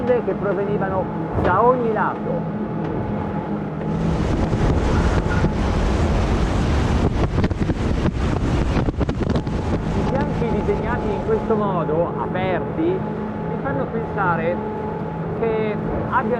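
Waves slosh and slap against the Swan Shadow motor boat from all sides under a constant motor hum, with heavy wind buffeting the microphone and someone speaking intermittently.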